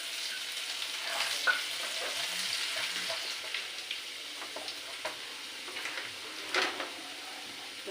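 Chopped garlic frying in a pan for chow mein, a soft, even sizzle close by with occasional light taps and scrapes of a utensil stirring, fairly quiet and without speech.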